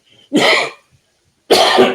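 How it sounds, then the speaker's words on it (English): Two harsh, forceful coughs up close, separated by about a second of silence. "do apologize for the cough"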